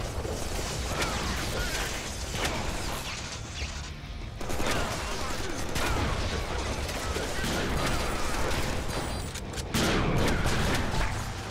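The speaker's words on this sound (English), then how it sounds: "Shotguns rock, yes!" Shotgun fire in the Deadpool video game, a dense run of loud blasts and mechanical clatter thick with game action, the shots repeating over several seconds with a heavier burst near the end.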